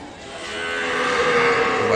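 An Ongole breed calf at a cattle market lets out one loud, drawn-out moo up close, swelling and holding for about two seconds with no talking over it.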